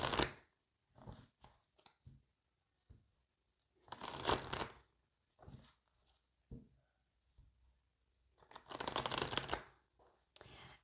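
Oracle cards being shuffled by hand in bursts of riffling, flapping paper close up, separated by short pauses and soft handling taps.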